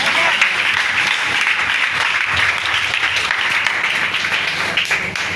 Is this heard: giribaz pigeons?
no